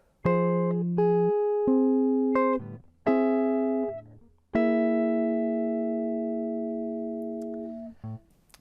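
Fingerstyle guitar chords from a song ring out one after another, each plucked cleanly and left to sustain, the last chord held long and fading slowly.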